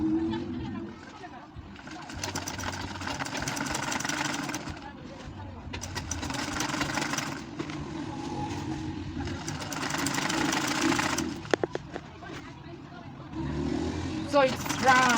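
Sewing machine running in long bursts as it stitches the fabric of a baby nest, a steady buzzing hum with brief stops between runs, close by.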